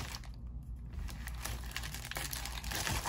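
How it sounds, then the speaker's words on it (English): Crinkling plastic packaging of an Amazon parcel being handled and opened, close and fairly loud, with scattered rustles and taps throughout. "Let's unbox this Amazon package."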